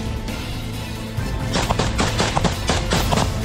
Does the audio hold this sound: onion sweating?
no